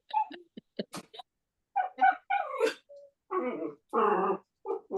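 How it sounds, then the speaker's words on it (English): Dogs at home before supper time barking, whimpering and growling in short, close bursts with silent gaps between them, loud and unaccompanied by talk. "Oh, is that my dogs?"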